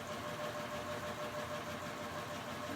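A serger sewing machine stitching lace runs slowly in a steady, continuous mechanical hum with a faint rhythmic chatter, close and moderately quiet, with no talking.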